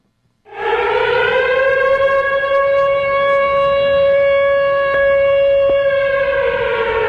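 A loud, sustained siren wail starts abruptly and holds a steady pitch for several seconds, slowly dipping near the end.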